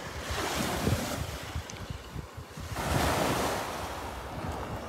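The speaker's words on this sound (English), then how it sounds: "Why is it we can continue watching the waves for so long?" Ocean surf on a Mexican shore in early morning, waves rolling in continuously with wind buffeting, one swell building louder about midway before easing off.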